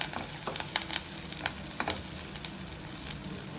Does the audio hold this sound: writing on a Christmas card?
no